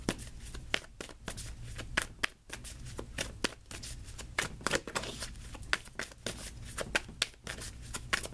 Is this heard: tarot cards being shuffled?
yes